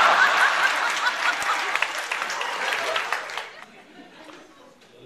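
Audience applause at a Hindi comedy poetry gathering in Houston, a loud burst of clapping from a crowd that fades out after about three seconds into near quiet.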